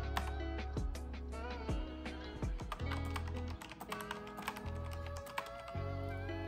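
Typing on a Zerowriter Ink mechanical keyboard, a steady run of close, crisp key clicks with uneven rhythm and occasional heavier thumps, audible over faint background music.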